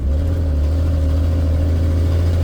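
Engine of a 1976 Ford F250 pickup with a manual transmission, a loud, steady, low engine drone held close by with no voices.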